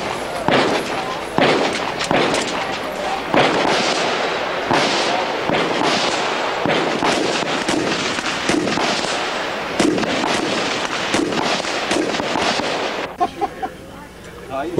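Rapid gunfire at a three-gun shooting match with customized guns fitted with muzzle brakes, a dense volley of sharp loud shots in quick bursts, then a few scattered shots, with some voices in the background.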